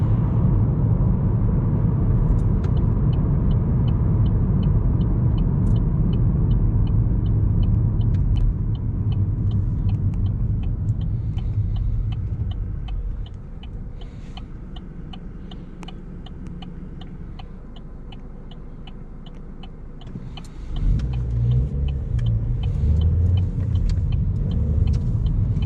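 Interior of a 2013 Vauxhall Astra 1.4 SRI climbing a hill in second gear on narrow country roads: steady loud engine drone and road rumble with a soft ticking indicator, easing off midway before the engine pulls hard again.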